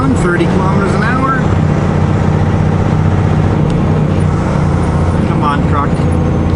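A truck with an automatic transmission drives through a 30 km/h playground zone on a slight downhill, its engine droning steadily with gear changes, loud and close inside the cab, with someone talking over it.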